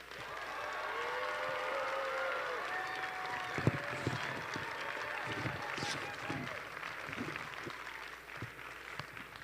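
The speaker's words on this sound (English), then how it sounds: "Let's give them a big round of applause for their dedication" Spectators at a robotics competition championship applaud the judges: faint, sustained crowd clapping with scattered voices and cheering mixed in, building slightly then continuing steadily at a distance.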